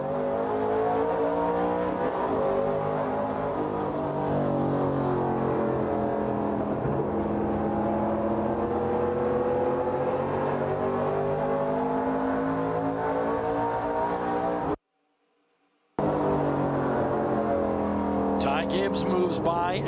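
Stock race cars at Memphis International Raceway in the ARCA Menards Series roar hard on a restart, heard from an on-board camera as one engine climbs through the gears, loud and steady, with a commentator talking over it.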